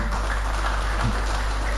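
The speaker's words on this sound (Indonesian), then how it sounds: "Tepuk tangan untuk beliau" An audience at a Demak chamber of commerce inauguration applauds the deputy regent with dense, steady clapping from nearby that fills the whole moment.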